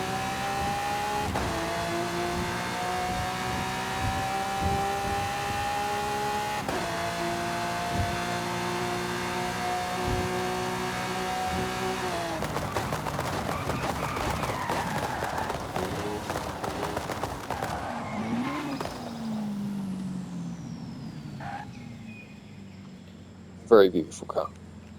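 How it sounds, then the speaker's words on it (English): Lamborghini Huracan STO in Forza Horizon 5 braking hard from about 250 mph on a runway, a loud steady engine drone dropping in pitch and fading, with a brief sharp burst near the end. "And braking at 250 miles an hour. Again, not the car's top speed, but very, very fast down this runway."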